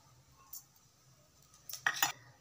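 A kadhai set down on the stove for a Khandeshi soybean dish makes a couple of quick metallic clinks and clatters near the end, after one faint knock, against a quiet kitchen background.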